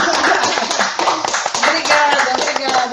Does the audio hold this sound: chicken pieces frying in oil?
no